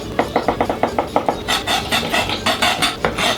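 A knife slices a lamprey tail into thin rounds on a board for ceviche, a quick run of about a dozen evenly spaced crisp chops, then looser, brushier cuts and scrapes, close and clear.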